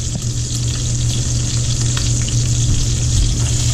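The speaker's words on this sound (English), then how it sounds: "Now at this point, I'm going to toss in the onion." Diced onion tossed into a hot pan for shrimp and sausage paella, giving a loud, continuous close-up sizzle with faint crackles and shuffling throughout.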